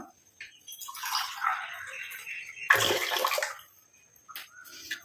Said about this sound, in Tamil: 1 டம்ளர் அளவுக்கு தண்ணி சேர்த்துக்கலாம்